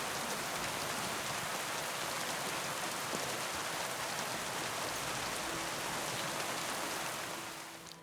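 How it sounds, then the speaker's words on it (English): Steady rainfall pattering outdoors in the medieval role-playing game Kingdom Come: Deliverance 2, a dense, even hiss of drops on surfaces that carries on unbroken and fades slightly at the end, with no voices. "I guess we're just gonna wait outside in the rain."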